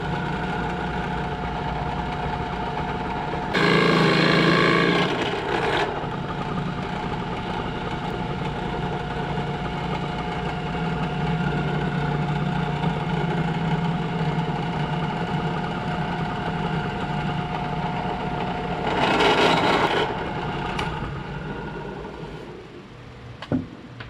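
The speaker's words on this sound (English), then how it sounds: "we're going to take a Forstner bit and we're going to drill this out" A drill bores into wood with a Forstner bit during a simple gun build, a steady motor hum running throughout, with two louder grinding bursts as the bit cuts and a faint clack at the end.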